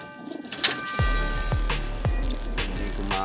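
Several racing pigeons coo in low, repeated descending calls, close by, with a few soft rustles and clicks around them.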